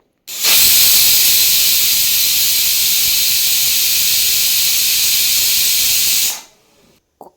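A pressure cooker with Kodagu-style chicken gravy vents steam in one loud, steady hiss lasting about six seconds, then cuts off abruptly.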